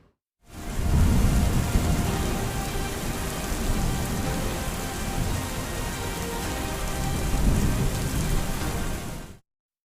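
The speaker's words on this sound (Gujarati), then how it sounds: "અને હવે વાત કરીશું ચોમાસાની કે જ્યાં પ્રારંભે જ પ્રચંડ જોવા મળી રહ્યું છે।" Heavy monsoon rain pouring down in Gujarat, a dense, continuous roar of rainfall with low rumbling swells like distant thunder, steady and loud after a brief silent start.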